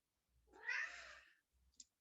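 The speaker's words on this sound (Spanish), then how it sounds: "Uno de mis gatos, que está haciendo miau ahí," A domestic cat gives one drawn-out meow, fairly close and moderately loud, followed by a short faint chirp a moment later, with no talking over it.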